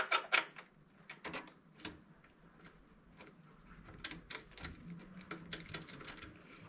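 Two small screws on the fuel tank of a Suzuki Bandit 650 being loosened by hand, giving faint, close, irregular metallic clicks and ticks scattered over a few seconds.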